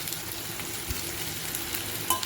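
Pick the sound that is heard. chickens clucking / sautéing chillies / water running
sautéing chillies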